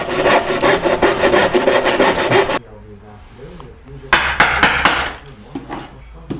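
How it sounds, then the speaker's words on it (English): Hand saw rasping through soft pine while cutting dovetails, a dense steady stroking for a couple of seconds, then a pause and renewed short bursts of sawing or chopping, close by. "Cutting dovetails in pine is pretty much fun"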